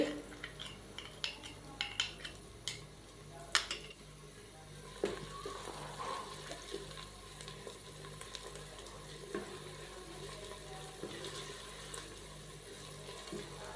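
Metal spoon scraping and clinking against a pan as ginger-garlic paste is stirred, with a soft sizzle underneath, irregular taps continuing throughout at moderate volume.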